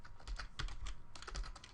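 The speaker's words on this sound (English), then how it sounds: "This is a funny keyboard." Rapid, uneven keystrokes on a computer keyboard clatter close by in a steady burst, a dense run of clicks with brief pauses, no voices.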